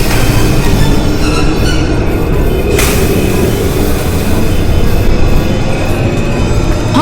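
A monster train in a Minecraft game roars past, a loud, continuous rumbling like a heavy train rushing by, steady throughout with a brief hissing burst partway through.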